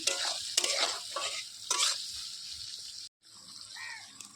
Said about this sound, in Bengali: পেঁয়াজ কুচি, লঙ্কা কুচি সব দিয়ে দিলাম, দিয়ে একসাথে কষিয়ে নেব।